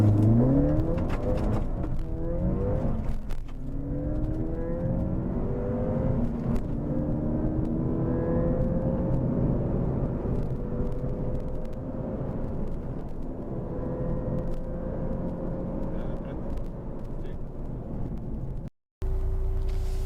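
A stock Ford Fiesta ST accelerates hard through a 0-60 and quarter-mile run, engine note climbing steadily through the gears with brief dips at each shift, loud and continuous from inside the car.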